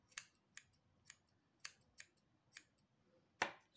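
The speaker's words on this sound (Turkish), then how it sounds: "Önce fazlalıkları kesiyorum." Scissors snip off excess fabric from a handmade Santa hat, seven crisp separate cuts at an uneven pace, close and quiet against a near-silent room.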